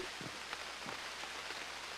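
Rain falling in the Unreal World video game, a soft steady patter on surfaces with a few scattered droplet taps, faint and continuous throughout.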